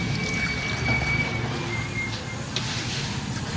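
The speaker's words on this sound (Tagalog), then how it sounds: "Maglalagay ako ng tubig." Water poured into a cooking pot being readied for steaming fish, a soft continuous trickling and filling that stays fairly faint and steady, with no talk over it.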